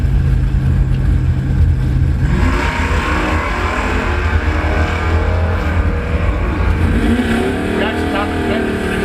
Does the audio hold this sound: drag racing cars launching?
yes